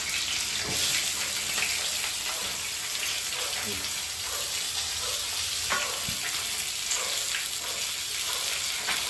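Fish heads with spices sizzle and fry in a pan, a continuous loud crackle with occasional stirring scrapes throughout.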